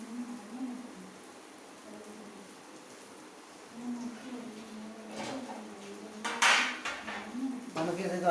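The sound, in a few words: stirring vegetables and chilli in a cooking pan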